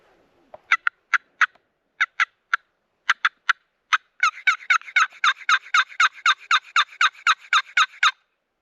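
Distant wild turkeys gobbling in south Texas: scattered short bursts at first, then a sustained rhythmic series of gobbles, faint but distinct over near silence.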